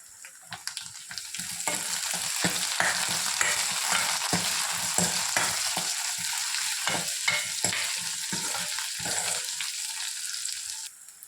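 Vada narayana leaves sauté in oil along with green chillies, dried red chillies and curry leaves. A steady sizzle swells and stays even, broken by frequent scraping stirs of a spoon, close up and with no voices.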